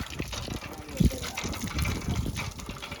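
A restarted village hand pump gushes water in a steady rushing flow, with a brief louder splash, while people talk nearby.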